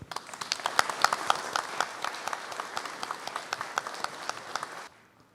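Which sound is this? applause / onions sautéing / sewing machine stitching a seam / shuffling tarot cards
applause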